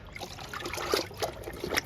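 Kitchen waste liquid pours onto drumstick plants in soil, a faint, close trickle with small splashy spatters and no talk.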